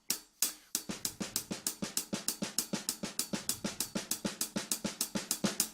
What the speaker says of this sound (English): if I'm going to play some eighth notes on my hi-hat, and if I was going to put ghost notes in between those